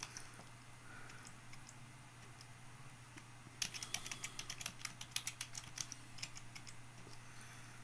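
A root password is typed on a computer keyboard while setting up an Odroid HC4 cloud appliance, a quick run of soft, close key clicks over a steady low electrical hum in an otherwise quiet room.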